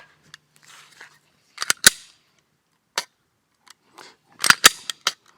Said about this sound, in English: Go ahead and dry fire that and see what you think of that trigger.